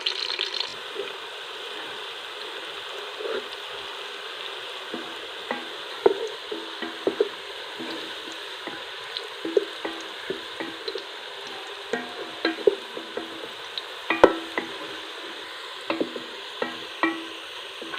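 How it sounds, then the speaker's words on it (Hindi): Sliced onions frying in oil in a pan for chana pulao, a constant bright sizzle close by, broken by repeated scraping and clinking taps as a spoon stirs the pan. "और इसको अच्छी तरह फ्राई कर लेंगे, क्योंकि चावल का कलर जो है वो जितना ज़्यादा अच्छा प्याज फ्राई किया हो उससे ही अच्छा कलर आता है।"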